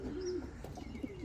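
Pigeons in a pigeon loft coo in repeated low, rolling calls, with one near bird leading while others murmur faintly behind it.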